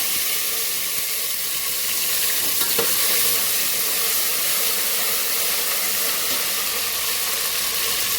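A spoonful of ginger and green chillies fry for khichuri in a hot pan, giving a loud, continuous close sizzle with faint stirring, no talking.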